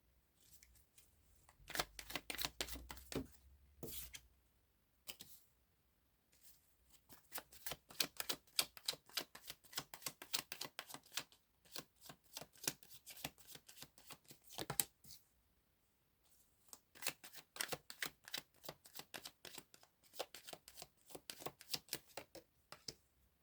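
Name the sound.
playing cards flying out while being shuffled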